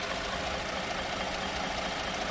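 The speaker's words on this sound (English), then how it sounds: "So this is the VVT direct injection engine." A 2013 Chevy Equinox V6 direct injection engine idles at a steady low level, a faint, even hum heard close up with no voices, ending in a brief click.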